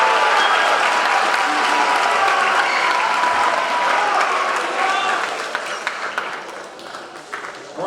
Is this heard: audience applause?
yes